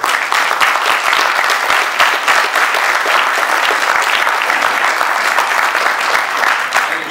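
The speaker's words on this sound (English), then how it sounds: "So let's give him a warm round of applause." A crowd at a candidate debate forum gives a warm, sustained round of applause, loud and continuous clapping with no talking over it.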